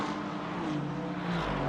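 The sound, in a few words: race car engine shifting gears, Le Mans Ultimate video game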